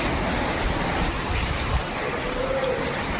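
Heavy cyclone rain in Chennai, a dense steady hiss of downpour pouring outside, constant and even throughout with no voices.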